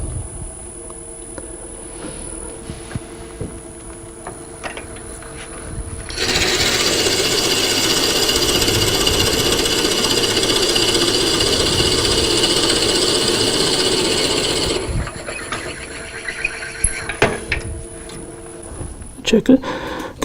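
A wood lathe spins at about 400 RPM while turning a miniature bird house, with a low steady motor hum and a loud, rough cutting rasp in the middle that fades back to the quieter hum.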